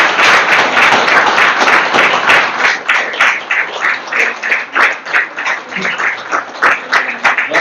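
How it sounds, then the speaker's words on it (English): A crowd at a circular-economy product showcase breaks into loud, sustained applause for a speaker, many hands clapping close and full at first, then thinning into a more uneven, pulsing patter toward the end. "So please, one more round of applause to"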